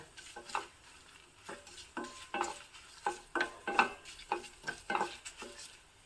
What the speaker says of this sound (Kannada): ಕರಿಬೇವನ್ನು ಹಾಕಿದ್ದೀನಿ ಇಂಗಿನ ಒಗ್ಗರಣೆ